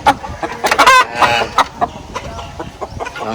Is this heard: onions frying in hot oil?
no